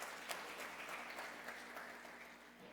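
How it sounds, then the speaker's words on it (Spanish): Church audience applause during a Lord's Supper service, a soft, somewhat distant patter of many hands that holds evenly throughout and tapers slightly at the end. "Un aplauso para ellos, ayúdenle"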